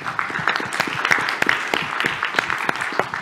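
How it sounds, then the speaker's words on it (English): Scattered applause from a conference audience thanking event sponsors, moderate and uneven claps with some overlapping voices, brief. "So let's give them a round of applause too."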